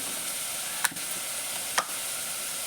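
Onions sautéing in a pan, an even hiss of sizzling oil broken by two brief scrapes of a spoon.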